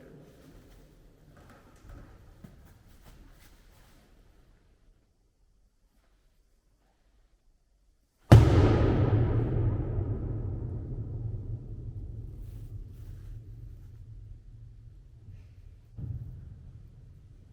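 A seat cushion slammed inside Bluespring Caverns in Bedford, Indiana, makes one sudden booming hit after near silence, followed by a long rumbling echo that fades slowly, with a faint smaller thump near the end.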